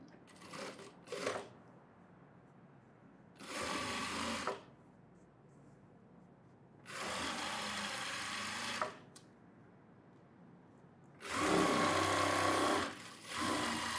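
A sewing machine stitches an umbrella frock in three long bursts of rapid whirring, each lasting a few seconds, with short stop-start runs at the beginning and quiet pauses between. No one speaks.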